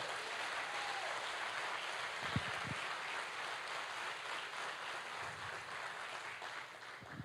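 A congregation claps during a Church of Christ service, called for by the apostle preaching. The steady crowd clapping is moderately loud and continuous throughout.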